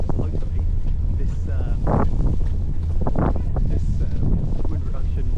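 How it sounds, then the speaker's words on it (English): Steady wind buffets the microphone out on Lake Ashi in Japan, a constant low roar with gusts rising and falling throughout, with boat and water noise mixed beneath. "The wind is starting to pick up now"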